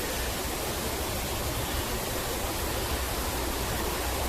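Water pouring over a stone weir into a head goit on a river, a steady broadband rush with no breaks, close and loud throughout.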